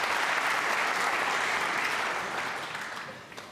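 A snooker crowd applauding Neil Robertson's 147 break, a sustained roar of clapping that holds steady and then gradually fades toward the end.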